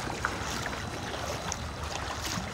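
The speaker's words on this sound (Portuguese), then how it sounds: "Já estamos aqui na nossa embarcação, nossa lancha privada." A private motor launch on the water off Morro de São Paulo, giving a steady, fairly loud broadband rush of engine and water noise with faint wind, alone and without talk.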